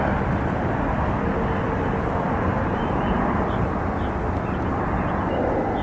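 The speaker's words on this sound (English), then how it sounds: "And a Citation 750, I believe, inbound from Fort Worth, Texas." A Cessna Citation 750 business jet inbound to Washington Dulles gives off a steady, loud, broadband engine roar that holds constant and unbroken from start to finish.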